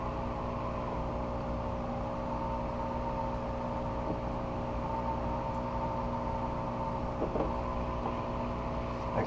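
Steady air pump humming in a hydroponic deep water culture reservoir, a constant mechanical drone with bubbling running alone and unchanging throughout.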